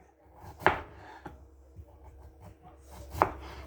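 An onion being chopped with a knife on a cutting board, a few sharp, separate knife strikes spaced unevenly with quiet handling noise in between, close and distinct, with no talking.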